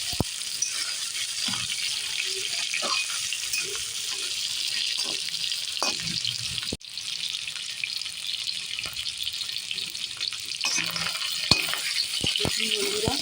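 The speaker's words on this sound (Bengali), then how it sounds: "পনিরগুলো হালকা করে ভাজতে হবে, বেশি ভাজবো না, হালকা করে একটু ভেজে নেব পনিরগুলো।" Paneer cubes fry lightly in a pan, giving a steady close sizzle and crackle with occasional stirring clicks and scrapes, loud throughout, with no voices.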